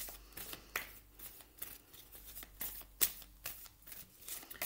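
Denise Linn oracle cards being shuffled by hand, a quiet run of papery riffles and soft slaps in uneven bursts with one sharper snap near the middle, no talking.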